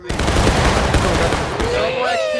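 Video game gunfire, a dense continuous fusillade of rapid shots filling the stretch, loud and close, with a rising whistling tone near the end.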